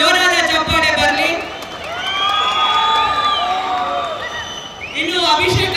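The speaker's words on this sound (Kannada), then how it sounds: "ಅದಕ್ಕೊಂದು ಜೋರಾದ ಚಪ್ಪಾಳೆ ಬರಲಿ." A loud stage-event crowd in a packed audience, a wash of cheering, whoops and applause that swells and holds for several seconds, with shrill voices rising above the clapping.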